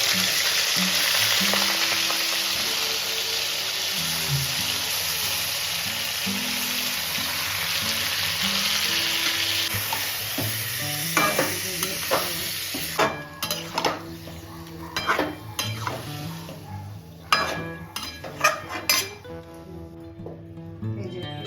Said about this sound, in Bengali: এবার আমি ম্যারিনেট করা চিকেনটা তেলের মধ্যে দিয়ে দিলাম